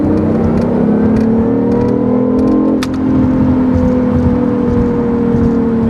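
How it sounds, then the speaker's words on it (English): Steady whine of a BMW i8 hybrid's electric motor, a high swooshing tone, with a constant tonal hum over road and engine rumble, continuous and fairly loud. "the battery, the electric motor whine"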